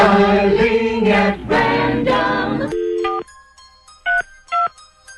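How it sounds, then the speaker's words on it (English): Telephone dialing tones from a radio studio call line: a long multi-tone sound fades into short, distinct beeps at a steady clean pitch, with separate tones coming in short bursts near the end. "while we're dialing"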